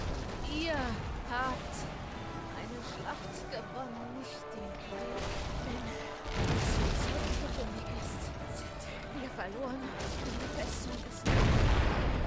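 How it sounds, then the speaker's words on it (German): Explosions during a naval battle in Anno 1404, booming crashes and rumbling blasts throughout, with people talking over them. "Diese Explosionsgeräusche sind echt verdammt laut."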